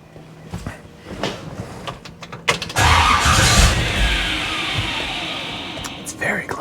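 A car engine fitted with an Edelbrock VRS 4150 carburetor, warmed up during tuning, catches and runs loudly and steadily after a few seconds of clicks and knocks, with a brief rev near the end.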